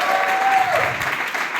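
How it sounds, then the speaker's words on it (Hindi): An audience at a planning session in Lonavala applauds three leaders, a short burst of dense clapping. A faint steady tone runs under it. "तो तीनों लीडर के लिए जोरदार तालियां।"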